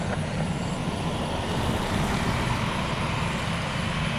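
MD-80 jet airliner taking off from a runway at Tampa, a steady broadband engine roar that stays loud and unbroken throughout.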